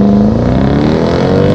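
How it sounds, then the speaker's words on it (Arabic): Dodge Durango SRT engine accelerating hard at high speed, a loud, steady roar with rising pitch and continuous road and wind noise inside the cabin. "صوت رائع من هذا المحرك"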